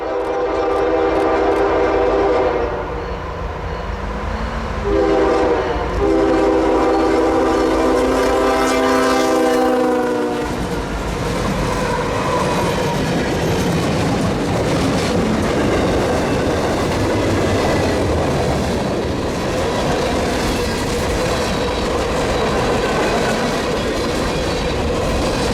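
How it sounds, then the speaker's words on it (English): A northbound CPKC manifest freight train, led by a KCS SD70MAC and Canadian Pacific SD60, passes close by on the Beaumont Sub, its horn blaring in long blasts before giving way to loud rumbling and clattering wheels. "we would quickly find our first train of the day, a northbound manifest"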